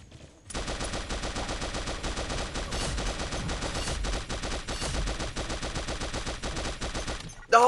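Sustained rapid automatic gunfire from the mobile shooter Pixel Gun 3D, a dense, loud stream of shots running almost without pause for several seconds, with no talking over it.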